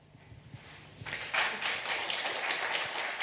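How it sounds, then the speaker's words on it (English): Audience applause at a Mohsin Hamid book reading in Wimbledon Library during Wimbledon BookFest 2023: a quiet room, then a dense, steady patter of clapping that swells in after about a second and keeps going at moderate volume to the end. "the audience is applauding"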